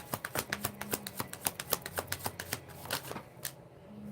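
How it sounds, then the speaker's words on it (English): Tarot cards shuffled by hand in a quick run of crisp riffling snaps and slaps that slows near the end, close and clear with no talking. "but I just couldn't stop shuffling"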